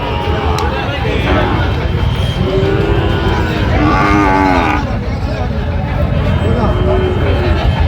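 A Sahiwal bull calf at a cattle market in Kushtia moos loudly several times, long drawn-out lowing calls over a noisy outdoor background with people chattering nearby.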